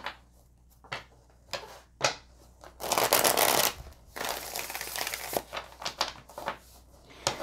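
Tarot cards are shuffled and handled close up, with crisp rustles, sharp flicks and taps, and a sustained riffling burst in the middle. No one speaks.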